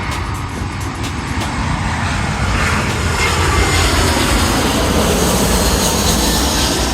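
A SriLankan Airlines airliner roars past the Katunayake airport viewpoint, a loud, steady broadband jet rumble that fills the whole stretch with no letup and no talking.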